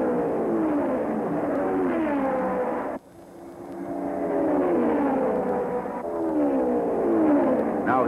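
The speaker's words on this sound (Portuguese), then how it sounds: "Ele passava todas as voltas na ponta, com seu barulho característico, parece mais de vento" Race cars speed past on an oval track at a major race, their engines rising and falling in long whooshing sweeps with a sharp cut partway through.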